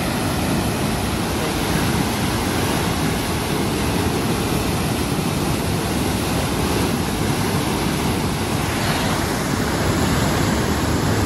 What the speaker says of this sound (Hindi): कितना स्पीड से पानी गिर रहा है।